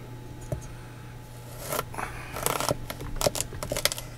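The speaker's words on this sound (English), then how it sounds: "I'm going to cut this into pieces. I'm going to cut it twice, let's say." A knife cuts through a long Maltese squash, qargha twila, in a kitchen: crisp, close slicing crunches that cluster in the second half after a quiet start, with a low steady hum underneath and no talk.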